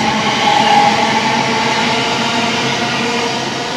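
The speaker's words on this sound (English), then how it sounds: "where we're moored, we're right by the trains." Trains rumble past close to a moored narrowboat near the Cadbury chocolate building, a loud, steady rolling roar of rail noise with a thin metallic whine, no voices.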